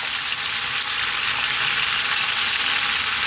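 Onion and goat curry fry over lively, above-medium heat, giving a steady, loud, close hiss of sizzling with no break.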